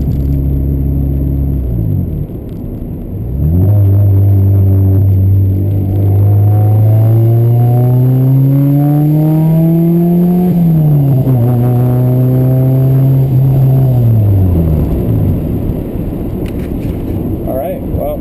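A Honda Accord CD5 accelerates with a low engine rumble that climbs steadily in pitch through the gears, peaks, then eases off near the end, loud and close throughout.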